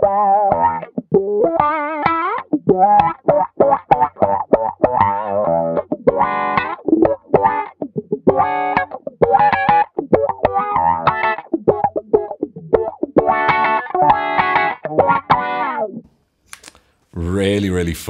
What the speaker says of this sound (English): there is an auto wah and a wah pedal